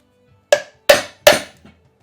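A grease seal is hammered into a Toyota Land Cruiser dual swing arm on a Kaymar bumper: three loud, sharp metallic strikes in quick succession, then a faint fourth tap, with no talking.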